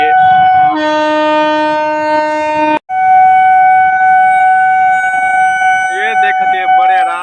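A train passing a level crossing blasts a loud, sustained multi-tone horn, broken by a brief gap before it sounds again close by, with voices talking toward the end.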